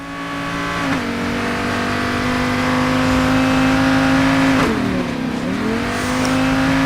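A car in the video game Payday 2 drives and revs loudly, its engine tone holding steady then dipping and climbing again as it accelerates, a close continuous whine with no talk over it.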